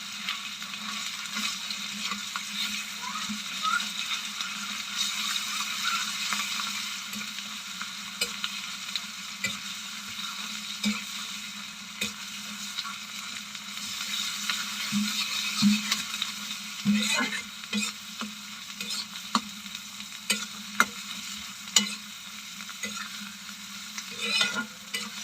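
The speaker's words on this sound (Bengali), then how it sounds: "এবার আমি তেলের মধ্যে বেটে রাখা সিমের পাতাটুকু দিয়ে দেবো।" Ground bean leaves sizzle in hot oil while being stirred for a Bengali bean-leaf bharta: a steady close frying hiss with intermittent scraping clicks of the spoon against the pan, without speech.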